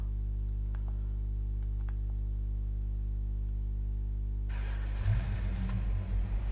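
A car engine in Farming Simulator 22 idles as a steady low hum, then rises into a louder, rougher rumble about five seconds in, as if pulling away, with no talk.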